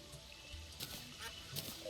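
A duck in the video game Terraria quacks a few times, short nasal calls rising over a steady background of game music and ambient noise.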